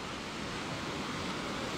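Sea surf breaking on the flat, sandless beach at Kumköy near Side, heard as a steady, even wash of waves with no talk over it.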